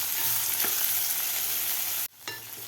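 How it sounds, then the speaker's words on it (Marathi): Vegetables for dahi upma sautéing in a pan over a medium gas flame, a constant crackling sizzle with a stir clink, briefly dropping out near the end before resuming. "फक्त 2 मिनटंच आपल्याला मीडियम गॅसवर ह्या भाज्या परतून घ्यायच्या आहेत"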